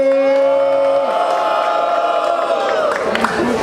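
Crowd at the Roda Cultural da Rocinha rap battle roaring and whooping loudly, a sustained dense wall of cheers with a held shouted tone at the start, continuous throughout.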